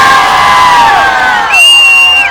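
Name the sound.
large crowd cheering and shouting at a cultural festival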